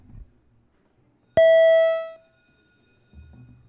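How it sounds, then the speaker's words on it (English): A single electronic bell tone rings once in a state senate chamber to call a vote, a bright, sustained chime that fades over about a second, with faint room murmur before and after. "if we could please ring the bells"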